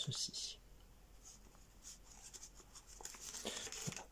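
Origami paper being folded into a pivot fold, soft close crinkles and brief sliding rustles, quiet and intermittent against a faint background.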